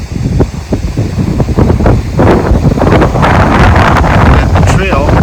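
Strong gusting wind buffets the microphone beside a reservoir in Cypress Hills, a loud, rough roar that swells and surges throughout.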